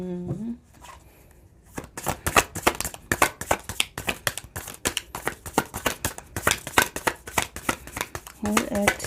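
A tarot card deck is shuffled rapidly in a dense run of crisp riffling flicks, close and loud, with a voice talking briefly at the start and end.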